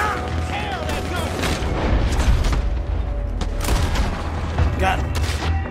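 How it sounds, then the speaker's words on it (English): A Gatling gun fires in Red Dead Redemption 2, loud booming rounds and crackling shots rolling on amid heavy surrounding gunfire, with voices talking over the din. "He's going for the Gatling! Look out, he's firing!"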